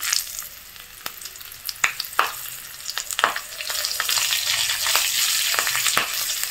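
Crushed cinnamon, cardamom and slit green chillies frying in oil make a soft, close sizzle broken by irregular sharp crackles and spatters that build into a denser hiss toward the end.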